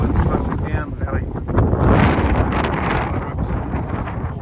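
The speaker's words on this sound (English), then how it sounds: "it's kind of feel like the wind's flowing down the valley" Strong wind gusting down a mountain valley during a tahr hunt by the Lambert River, roaring and buffeting the microphone in a continuous, heavy rumble that rises and falls.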